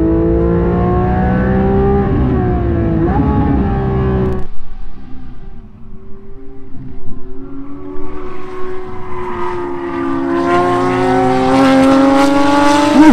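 A Porsche GT3 race car engine revs hard during a race, with loud, rising and falling engine pitch through gear changes and a brief dip as it passes, then climbs again to a high wail.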